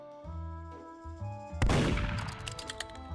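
Gunfire in the Roblox game Murder Mystery: soft synthetic tones first, then a loud burst of shots followed by rapid, fading crackles and echoes.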